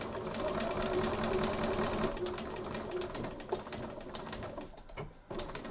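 A sewing machine back-tacks stitches on a bag pocket near a magnetic snap, a steady close mechanical whir with rapid needle rhythm running throughout and a brief pause near the end.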